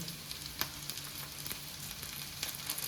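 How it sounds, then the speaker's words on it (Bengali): A spice paste of ginger, chili powder and turmeric fries in oil for bread cutlets, a steady moderate sizzle with a faint low hum and scattered small pops, close by with no speech. "এবার মশলাটাকে আমি ভালো করে আবারও ভেজে নেব।"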